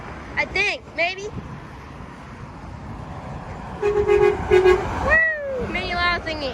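A passing gravel truck sounds its air horn in short, loud, steady blasts, with voices shouting and whooping excitedly before and after.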